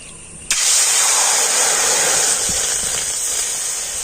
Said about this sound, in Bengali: সেই বাটি মেপে তিন বাটি জল আমি কড়াতে দিয়ে দেবো